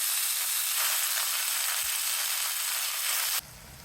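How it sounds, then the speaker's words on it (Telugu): Ajwain leaves sizzle and fry in hot oil in a pan, a steady close crackling hiss that runs evenly and then drops abruptly to a quieter sizzle near the end. "ఈ కొంచెం నూనె సరిపోద్దాం ఆకుకి కొంచెం ఉంది వాము ఆకుని వేసేద్దాం"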